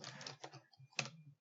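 Typing on a computer keyboard in short bursts of soft, close key clicks with brief pauses between, faint and alone.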